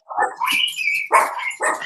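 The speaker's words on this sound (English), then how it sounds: "the dog barking" A dog barks in a domestic setting, giving a few loud, close yelping barks in quick bursts with short gaps between them, with no one talking over it.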